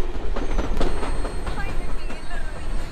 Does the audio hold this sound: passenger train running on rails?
yes